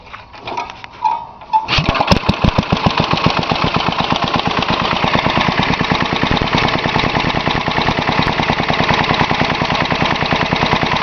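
A small engine with a freshly rebuilt Walbro carburetor starts after a brief rattle and then runs steadily in neutral, a loud, close, rapid popping idle that stays even to the end.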